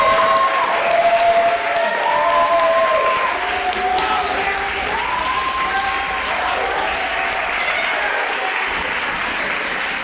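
An audience at a university forensics homecoming showcase gives long, loud, continuous applause for the performers, with cheering and whoops rising over the clapping.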